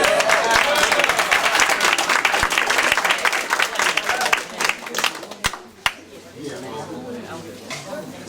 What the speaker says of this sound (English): let's give our students a wonderful round of applause